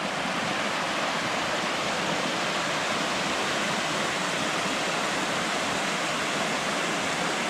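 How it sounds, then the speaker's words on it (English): A mountain stream rushing down rocky slabs beside a descending hiker in the Scottish hills, a steady, full roar of flowing water with no pauses and no voices. "I've got the river or stream following next to me."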